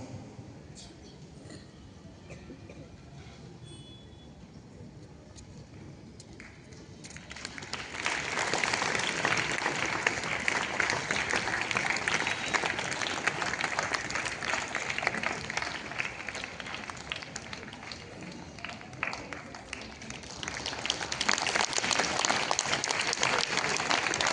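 Applause for three students at a school Thanksgiving Day assembly, starting from a quiet murmuring hall before a large crowd breaks into sustained clapping that swells again near the end, with voices faintly beneath.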